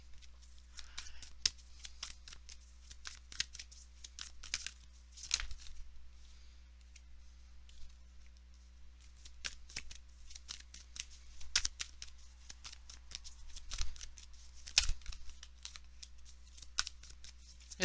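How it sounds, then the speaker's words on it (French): Tarot cards being shuffled and drawn, in repeated quick riffling bursts and sharp slaps of card on card, close-miked over a low steady hum, with brief pauses between bursts. "Je vais juste sortir vos cartes avant de vous les lire."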